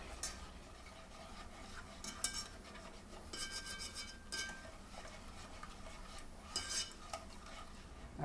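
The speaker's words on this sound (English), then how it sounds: "we're just going to stir, and we're going to keep stirring because we want it to get thick" A spoon stirs a pan sauce thickened with Hidden Valley Ranch seasoning, with quiet scraping and occasional metallic clinks against the pan in an uneven rhythm, close but soft.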